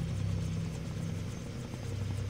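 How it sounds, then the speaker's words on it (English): Helicopter in the Far Cry 3 video game, a steady low rotor thump and engine drone filling the short stretch, fairly loud and continuous, with no voices. "Can't let them put Ollie in the chopper"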